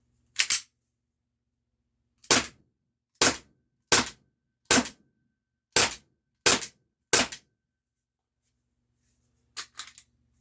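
Umarex T4E training marker pistol fires seven sharp, close shots in a quick string after a single early crack, followed by a couple of softer mechanical clicks at the end.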